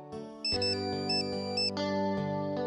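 A mobile phone ringtone plays a bright looping melody, loud and close, ringing on unanswered with no voices over it.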